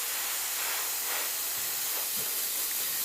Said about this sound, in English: And I just spray the template.